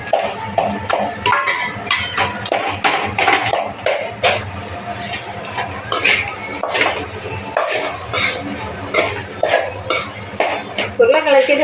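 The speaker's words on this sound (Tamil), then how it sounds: "இது கூட உருளைக்கிழங்கு போட்டு நல்லா வணக்கணுங்க" A spoon clatters and scrapes against a metal pan as boiled potatoes and onions with turmeric are sautéed and stirred. The knocks come in uneven bursts over a soft background sizzle, close and fairly loud.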